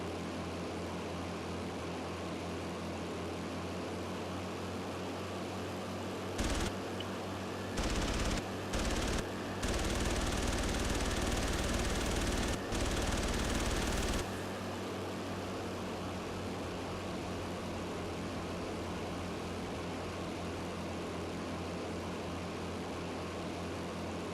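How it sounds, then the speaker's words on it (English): Machine gun fire strafing a cargo ship in the naval combat game Battlestations: Midway, loud sustained bursts broken by short gaps over a constant engine drone that continues after the firing stops. "strafe that cargo ship until she goes down"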